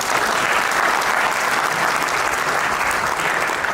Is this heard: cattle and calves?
no